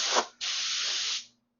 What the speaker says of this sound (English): I can sand the trunk or deck lid in this panel here.